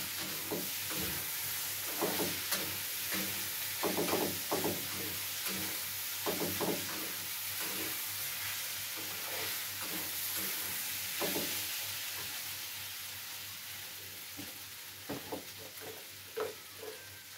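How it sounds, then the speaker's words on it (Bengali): Spice paste sautéing in a pan, a steady low sizzle with scattered stirring scrapes and clicks, close and fairly quiet, no talking. "মশলা দিয়ে দিয়েছি, একটু কষে নেবো মশলাটা দিয়ে।"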